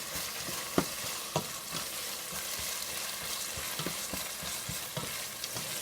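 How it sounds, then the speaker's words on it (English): Onion and six ounces of tomato paste frying in a pot for jollof rice, a steady close sizzle with occasional scraping knocks of a spoon as it is stirred, no talking. "Fry up the onion with the tomato paste"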